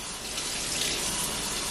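Hot water runs steadily from a kitchen tap through glass drinking straws being cleaned, a smooth continuous hiss of flowing water close by with no talking over it.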